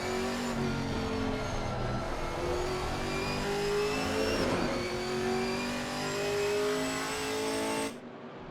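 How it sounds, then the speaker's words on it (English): Chevrolet GT4 race car engine at Oulton Park, loud and sustained with rising and falling revs through gear changes, heard at a distance under continuous track noise and cutting off abruptly at the end. "Tremendous sound that is. A treat for the eyes and ears, that Chevrolet."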